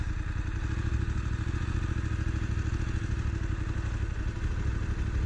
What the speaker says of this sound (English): So right, into first gear, the normal first gear clunk like we normally have, and we'll roll away.